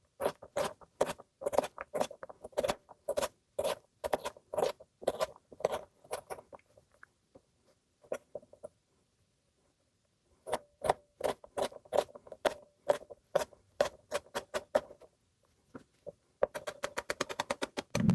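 Rapid knife chops dicing potatoes into small cubes on a cutting board: quick, evenly spaced taps in bursts, broken by a short quiet stretch, close and crisp with no talking.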